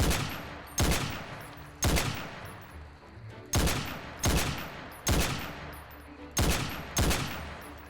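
Video game gunfire in a horror-style shooter, roughly eight loud, sharp shots spaced about a second apart, each with a quick decaying tail.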